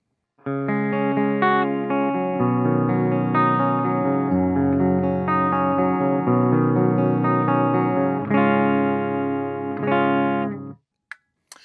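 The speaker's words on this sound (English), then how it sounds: "And now we're going to select both pickups, and it sounds like this." Fesley FSG350 electric guitar with both pickups selected, strummed chords ringing out with a bright, slightly driven tone, sustained for several seconds before stopping abruptly.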